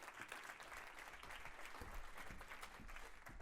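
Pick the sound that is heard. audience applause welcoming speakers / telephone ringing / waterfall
audience applause welcoming speakers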